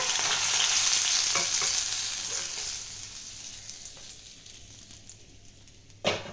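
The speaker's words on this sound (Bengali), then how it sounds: "তো দেখো মাছটা সুন্দর করে ভাজা হয়ে গেছে" Katla fish frying in hot oil gives a steady, dense sizzle that slowly fades over several seconds, ending in one sharp spitting burst near the close.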